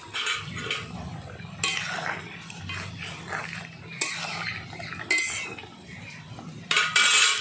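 Fried rohu fish pieces go into a curry pan, producing repeated metallic clanks and clinks of utensil against pan, with bursts of sizzling in between, close and fairly loud.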